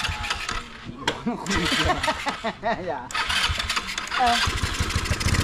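A motorcycle engine cranks and catches outdoors, its sputtering mid-pitched running note rising and falling under steady nearby conversation.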